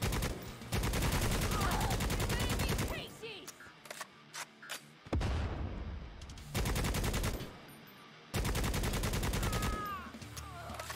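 Sustained bursts of machine-gun fire in Necromunda: Hired Gun, several long rattling volleys separated by short quieter gaps with scattered single shots, loud and close throughout.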